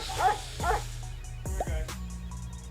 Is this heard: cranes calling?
no